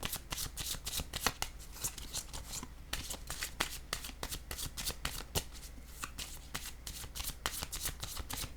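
Tarot cards are shuffled close by in a rapid series of crisp riffling snaps and flutters, repeating in quick bursts throughout.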